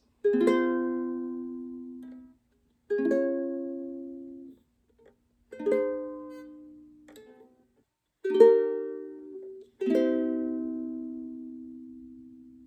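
Ukulele chords strummed one at a time in a slow progression, five strums each left to ring before a short pause.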